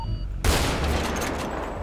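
Gunfire in GTA 5 roleplay, a single loud close shot cracking out and then rolling into a long echoing tail across open ground.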